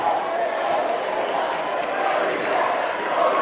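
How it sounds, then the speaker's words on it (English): Restless crowd murmur filling a gym during a stoppage at a basketball game, a steady mass of indistinct voices with people talking throughout. "Crowd getting a little anxious now."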